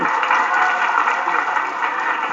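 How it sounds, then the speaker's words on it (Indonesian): A crowd at an outdoor religious lecture breaks into dense, even applause, a steady wash of many hands clapping at full loudness throughout. "Tepuk tangan buat semuanya."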